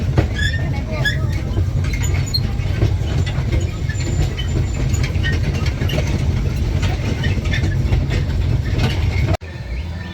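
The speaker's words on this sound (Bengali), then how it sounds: "এখন ট্রেনে চেপে ঘুরে বেড়াচ্ছি।" Riding aboard a moving train, a steady low rumble and rattle of the carriage runs throughout, with faint squeaks and clicks, ending in a sudden brief break.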